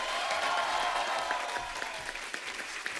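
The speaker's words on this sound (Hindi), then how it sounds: "जोरदार तालियां होनी चाहिए।" Loud, sustained applause from a studio audience welcoming a film actor onto a Hindi comedy talk show stage, steady dense clapping filling the whole stretch without a break.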